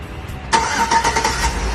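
A car engine cranks with a rapid, rhythmic churning after a brief quiet moment, not yet catching.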